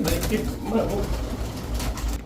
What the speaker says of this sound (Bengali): রুবেল ভাই এটা কি কবুতর এটা হলো কেটিএম কেটিএম টেডি